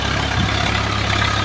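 A Swaraj 742 FE, a 40 HP tractor, runs steadily while pulling a rotavator through a field, its engine a loud, continuous low drone close by with no pauses.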